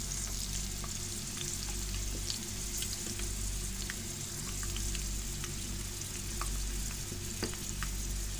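Garlic and ginger sizzle steadily in a hot pan while karela sabji is cooked, with a dense continuous hiss and occasional sharp pops and crackles throughout, close and alone with no talk.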